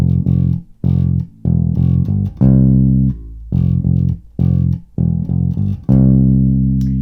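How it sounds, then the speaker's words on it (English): A bass guitar plays a melodic line from a song, plucked notes, some short and repeated, others held, with brief gaps between phrases. "So that bass line sounds like this."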